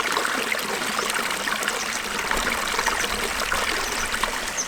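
A woodland stream in the Brecon Beacons burbles over rocks near a waterfall walk along Nant Bwrefwr, giving a steady, close wash of running water with no talk over it.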